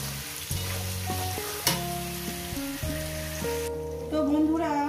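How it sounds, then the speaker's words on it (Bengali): Potatoes and onions fry in a pan for a fish curry, giving a close, continuous sizzling hiss like light rain on a surface. "আর এটাকে আমি ভালো সুন্দর করে 5 থেকে 6 মিনিট এটাকে ভেজে নেব"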